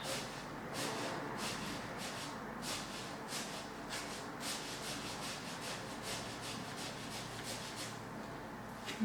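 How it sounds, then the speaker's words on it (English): Credit card edge scraped across watercolour paper, pulling wet paint in a run of soft, close rubbing strokes that repeat steadily. "Get the old credit card scraper"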